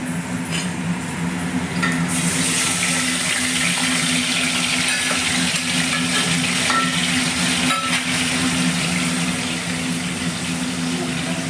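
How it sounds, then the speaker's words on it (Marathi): Onion paste added to hot oil with cumin seeds while making rajma, giving a loud, dense, continuous sizzle that swells after a couple of seconds and holds steady, with a faint low hum beneath and no talking. "आता आपण कांद्याची पेस्ट टाकून घेऊ"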